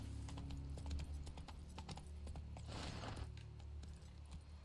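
A horse's hooves clip-clop at a steady trotting rhythm in The Witcher 3, with faint jangling tack over a quiet game backdrop and no talking.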